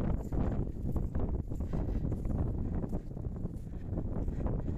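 Strong wind gusts roar continuously across a snowy mountainside in a blizzard, buffeting loudly and steadily with rushing turbulence throughout, no voices present.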